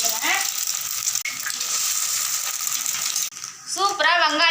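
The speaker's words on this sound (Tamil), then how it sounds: "3 முட்டை தான் உடச்சி ஊற்றுறேன்." Three eggs poured over onions into a hot pan set up a loud, steady frying sizzle, broken by a brief clink; near the end, speech cuts in over the cooking.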